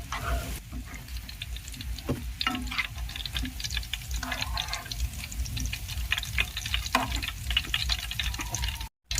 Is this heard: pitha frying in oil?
yes